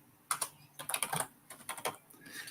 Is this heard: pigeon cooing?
no